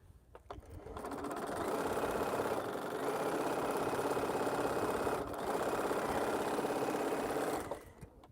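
A sewing machine stitches quilt blocks in a continuous, fast mechanical whir lasting several seconds, with a brief dip midway before stopping, close and fairly quiet.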